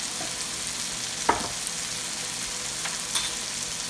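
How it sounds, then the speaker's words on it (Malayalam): Onions sizzle steadily in a pan as spice powders, including Kashmiri chili, black pepper and garam masala, are stirred in for Kerala chicken dum biryani, with a few soft scraping stirs near and clear and no talking. "ഇനി ഈ പൊടികളെല്ലാം നന്നായി ഈ ഉള്ളിയായിട്ട് യോജിപ്പിക്കണം."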